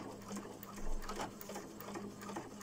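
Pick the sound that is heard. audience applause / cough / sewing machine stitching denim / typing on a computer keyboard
sewing machine stitching denim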